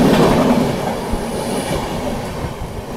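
A train overtakes on the adjacent track during heavy rain in West Bengal, a loud, steady rumble of rolling wagons and wheels passing close by with faint clatter and squeal and no talk.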